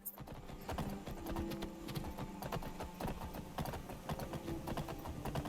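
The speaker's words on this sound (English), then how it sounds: "I hate horses in Skyrim, but hey, it's free." Horse hooves in Skyrim clip-clopping in a quick, continuous rhythm of steady footfalls, faint and low in level, with no talk over them.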